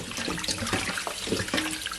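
Cold tap water runs steadily over raw oxtail in a sink, a close, continuous splashing rush with small irregular spatters, no voices.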